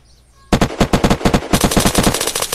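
Automatic gunfire in the survival video game Unturned, a loud sustained string of rapid, evenly spaced shots starting abruptly after a quiet moment and continuing without pause.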